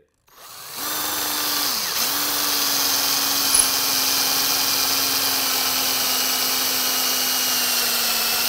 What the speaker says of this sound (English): so I'm gonna show you that while I'm drilling